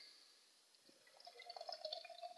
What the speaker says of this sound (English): Let's pour out, like we do.